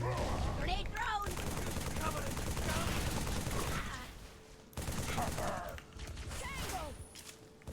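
Assault rifle fire in Halo 3 on PC rattles in sustained, loud automatic bursts amid battle noise, with a brief pause before firing resumes.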